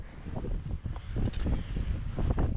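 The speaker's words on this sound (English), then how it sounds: "Know it's real windy, but that's the world we live in." Gusty wind buffets the microphone in uneven rumbling bursts, loud and close, with no voices.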